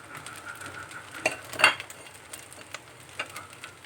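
Fried rice is stir-fried in a pan as spring onions go in: a soft background sizzle with a few sharp clinks and scrapes of a utensil against the pan, nearby and without speech.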